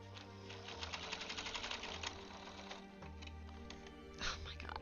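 A sewing machine runs steadily while quilting a Seahawks quilt, its rapid rhythmic stitching close and continuous, with a voice faintly present.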